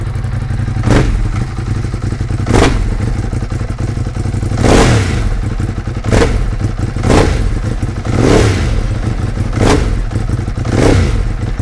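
A motorcycle engine with an electric throttle runs loud and close at a steady idle, rising into several repeated revs spaced a second or two apart, each a surging roar over the constant low rumble.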